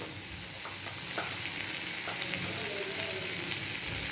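Ivy gourd sautéing with grated coconut in a pan, a steady close sizzle and frying hiss with a few light stirring clicks, no voices.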